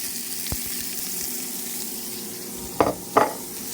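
Onions hitting olive oil in a skillet give a faint, steady sizzle, broken near the end by two short, louder bursts of crackle.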